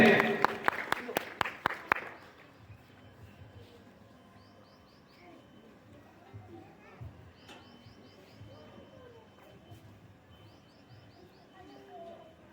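A school Republic Day program audience gives a short, sharp burst of applause, loud for the first two seconds and then stopping abruptly, followed by quiet open-air ambience with faint birdsong.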